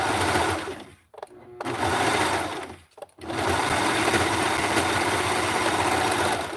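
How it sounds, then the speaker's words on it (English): A serger overlock sewing machine stitches fabric for a ruffle with a loud, steady high-speed whirring, stopping twice briefly before running continuously again. "I'm going to put the serger there"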